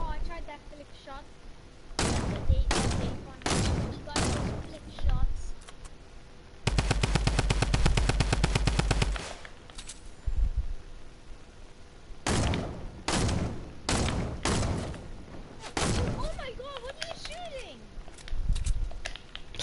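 Video game gunfire during a sniper shootout: loud clustered shots and one sustained rapid burst of automatic fire, close and punchy, with a player talking in between.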